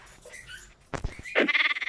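A small sheep bleats in the block-building video game Block Crazy: a few soft thuds come first, then one loud, wavering, nasal bleat close by, with no talk over it.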